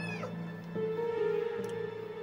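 A house cat meows in a kitchen, a single drawn-out tonal call with a rising then steady pitch, fairly close and clear over a low background hum.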